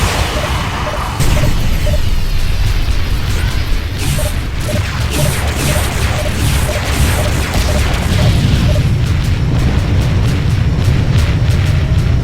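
Heavy beam weapon blasts and explosions in the space combat game Freespace 2, a loud continuous roar with repeated crashing impacts and a pulsing rhythm through the whole stretch.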